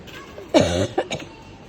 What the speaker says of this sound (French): Et donc la toux, elle est toujours là.